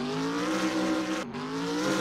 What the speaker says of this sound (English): Just keep on revving and reversing.